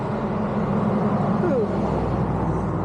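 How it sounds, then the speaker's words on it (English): Road traffic rolls past a parked car near Mount Rainier National Park, a continuous loud rumble and hiss of passing vehicles with no clear gaps between them. "Even here you can see and hear the traffic that's passing me."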